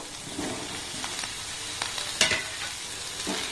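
Boiled potatoes stir-fried with spices and salt in a pan for aloo kabli, a soft steady sizzle broken by a few spatula scrapes and one sharp clack, close, no voices.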